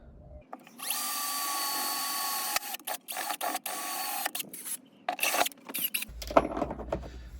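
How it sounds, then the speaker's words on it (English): A small pilot drill whines at high pitch as it bores through the metal tub of a VW Amarok, running steadily, then cutting in and out in short bursts, close and loud. "It's a good idea to run a pilot drill through first. So that's just a smaller drill."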